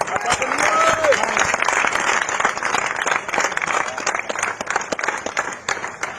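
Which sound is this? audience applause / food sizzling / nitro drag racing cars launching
audience applause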